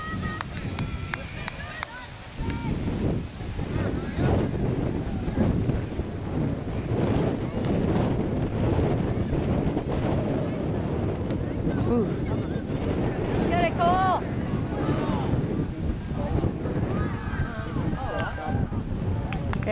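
Strong, steady wind roars and buffets the microphone outdoors throughout, a continuous loud rush with faint voices in the background.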